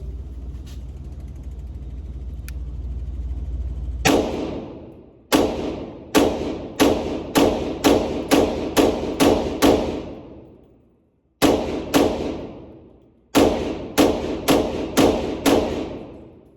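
A PSA 5.7 Rock pistol fires a string of sharp, loud gunshots outdoors, first several in quick succession, then a pause, then two more bursts of rapid shots, each crack decaying quickly.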